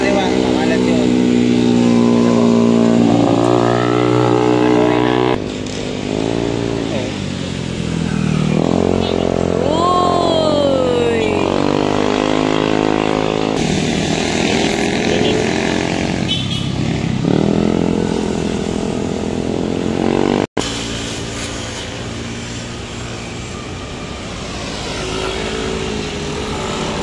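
Racing motorcycle engines roar past in repeated loud passes, pitch sweeping up and down as bikes accelerate and brake, with a commentator talking over them throughout.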